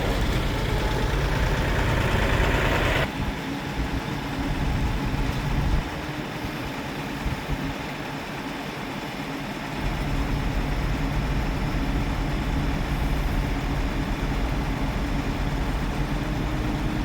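A tractor engine runs steadily during the removal of a huge American elm tree, a continuous low rumble that drops briefly in level before resuming, with no talk over it.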